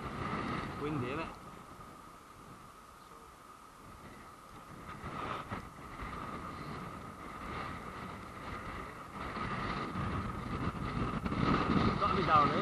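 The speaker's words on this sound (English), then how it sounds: "Windy, isn't it?" Gusty wind buffets the microphone in rising and falling rushes on a hike near Gwrych Castle, Wales, with brief voices talking now and then.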